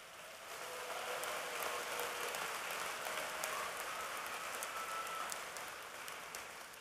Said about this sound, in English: Let's applaud this group, please.